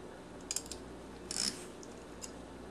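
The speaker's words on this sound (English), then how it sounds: "So here's the keys." Real metal handcuffs are unlocked with a key, giving a few sharp ratcheting clicks and a short metallic rattle close by, quiet overall with small pauses between the clicks.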